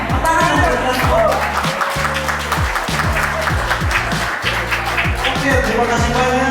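Applause from an audience at a company's 24th anniversary celebration in Indonesia: dense, steady clapping that runs loud throughout, mixed with background music and some voices.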